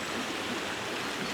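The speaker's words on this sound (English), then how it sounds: "Freezing cold river." Freezing cold river in the Scottish countryside between Kilwinning and Dalry, rushing steadily as a close, continuous broadband wash of flowing water with no breaks.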